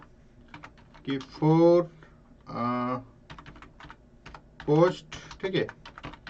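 Clicky keystrokes on a computer keyboard as a prompt is typed into ChatGPT, arriving in short bursts between stretches of someone talking in Hindi.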